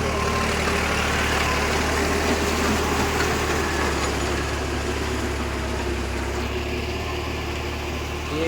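A New Holland 3600 tractor's diesel engine idles close by, a loud, even, low throb that holds steady throughout with no talking.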